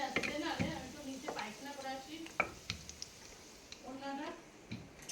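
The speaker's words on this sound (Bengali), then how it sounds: "লুচি ভাজছো?" Luchi puris sizzle and bubble as they fry in hot oil, a soft steady crackle with occasional stirring clinks, heard close under intermittent conversation.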